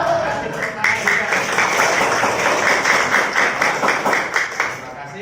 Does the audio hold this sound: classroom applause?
yes